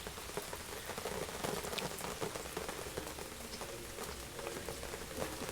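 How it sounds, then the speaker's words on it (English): Steady heavy rain falls outdoors, a dense close patter of drops hitting surfaces without pause. "it's really raining out here"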